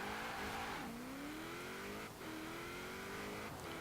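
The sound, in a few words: 2005 Vauxhall Monaro VXR accelerating, Forza Horizon 4 video game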